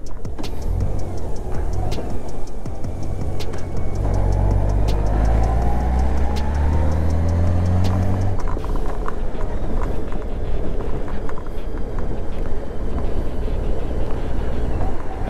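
A Honda Goldwing GL1800 motorcycle on the road, its engine and wind noise loud and continuous, with rising gear tones as it accelerates through shifts.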